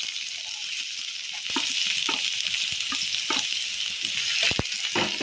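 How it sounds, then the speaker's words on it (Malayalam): Cumin seeds and onion frying in hot oil in a pan while cooking chicken curry, a close, steady sizzle that swells louder as the ingredients go in, with scattered clicks and scrapes of stirring and no voices. "ചൂടായതിനു ശേഷം എണ്ണ ഒഴിച്ചു കൊടുക്കാം കുറച്ച് ജീരക ഇട്ട് കൊടുക്കാം കുറച്ച് ഉള്ളി ഇട്ട് കൊടുക്കാം"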